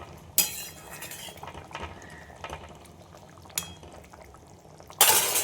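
Tengra fish dropped into a simmering Bengali fish curry: a few soft clatters and a splash, then quiet bubbling and utensil scrapes in a pot, ending in a brighter clink.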